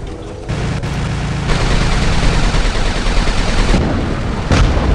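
Atomizer weapon firing in the War Robots video game, a loud, continuous barrage of rapid booming shots that holds steady for several seconds with a few sharper bursts near the end.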